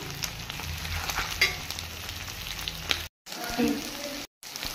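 Duck meat with onion fries in hot oil in an Assamese-style pan, a steady close sizzle with stirring scrapes while a voice talks over it, broken by two brief dropouts.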